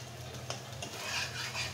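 Two portions of noodles with spice mix stirred and frying in a pan, a soft steady sizzle with light utensil scrapes against the pan, faint and close, with no talk.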